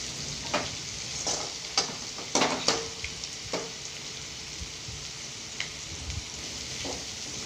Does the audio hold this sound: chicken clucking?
no